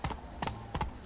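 Geralt's horse Roach gallops in The Witcher 3, three rhythmic clip-clop hoof beats thudding at a steady pace, moderately close and fairly quiet.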